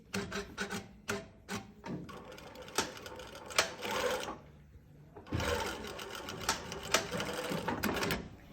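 A close sewing machine stitches fabric in uneven bursts, its rapid mechanical clatter starting and stopping with short pauses and sharp clicks, then running longer near the end, with no voices.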